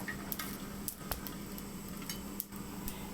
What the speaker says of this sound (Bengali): হালকা রসুনটা একটু ফ্রাই করে নেব